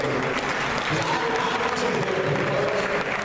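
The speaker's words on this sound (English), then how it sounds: "I would like to give a round of applause." Sustained applause from a summit panel audience at a Black round table, steady and fairly loud with crowd murmur and voices blended underneath.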